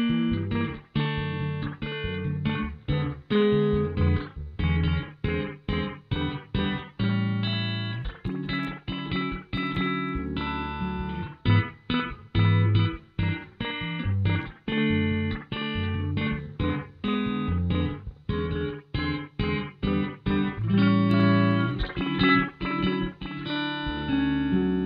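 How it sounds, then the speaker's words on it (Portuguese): An electric guitar played through the Acustica Audio Silver spring reverb plugin: rhythmic, distorted chords and riffs with short gaps between them, running steadily and alone for about twenty-five seconds. "Reverb de mola e guitarra é uma combinação"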